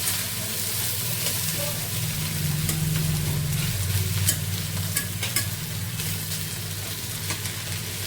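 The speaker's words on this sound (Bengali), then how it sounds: "আলুটা ভেজে নিচ্ছে" Potatoes with onion and green chilli fry in a pan, giving a steady dense sizzle with occasional light utensil clicks and a low background hum throughout.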